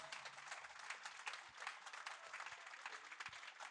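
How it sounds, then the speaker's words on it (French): An audience at a political conference claps together in a steady burst of applause, heard from some distance and fairly faint. "On peut l'applaudir bien fort."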